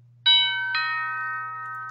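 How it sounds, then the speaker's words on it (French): A phone rings out in a quiet room during a paper crafting session, two bright chime-like tones striking in quick succession and then ringing on as a sustained fade over a low steady hum, with no talking. "je suis désolée pour le téléphone"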